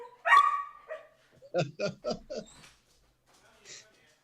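A dog gives one sharp yelp, then a quick run of four barks, close and fairly loud, followed by a faint final yip, with a voice speaking briefly around them.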